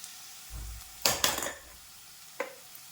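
Onions fry in a pan with cumin and pepper while a utensil stirs them. A few loud scraping clatters stand out over a faint, quiet sizzle, with a short final clink.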